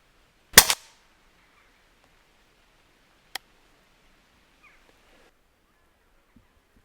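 An airgun fires at a grey squirrel in woodland: one sharp, loud crack at the start, then a single fainter snap a few seconds later amid quiet outdoor stillness and small rustles.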